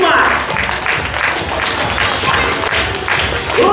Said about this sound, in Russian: А мы аплодируем.